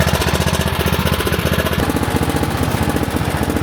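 A lawn mower engine runs steadily and loudly up close, with a rapid chugging pulse throughout.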